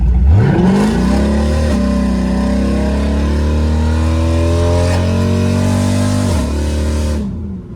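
An LS V8-swapped Toyota Prius accelerates hard from a standing start with no burnout, its engine roaring loudly and revving up through the gears with audible shifts, close and continuous.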